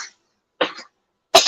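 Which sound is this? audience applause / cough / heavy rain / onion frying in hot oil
cough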